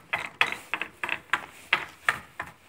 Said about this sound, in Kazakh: Шарлар. Айланып жүреді кәдімгі.